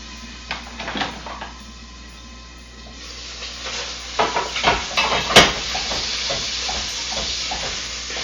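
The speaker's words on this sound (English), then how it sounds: "Give it a good stir. Still needs to redden down a little bit more." Chopped garlic and onions cooking in a pan for butternut squash soup, stirred with a utensil: steady sizzling frying hiss with repeated scraping and clinking strokes, close and growing busier midway.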